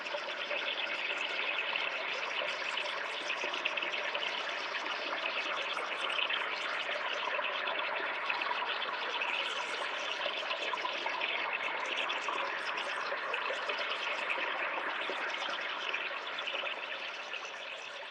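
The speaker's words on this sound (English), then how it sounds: "recorded a few waterfalls and birds and nature kind of sounds there" Waterfall at Mount Glorious, a steady broadband rush of falling water that holds the same level throughout, close and continuous with no voices.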